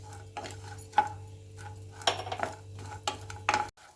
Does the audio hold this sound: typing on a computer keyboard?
no